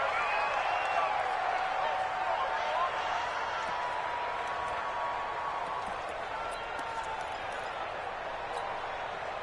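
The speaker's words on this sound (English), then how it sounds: "The crowd getting into it as we come up on a big 3rd down" A stadium crowd in a PS4 American football video game roars steadily ahead of a big fourth-quarter third down, a dense, loud wash of cheering that continues for the whole stretch with no break.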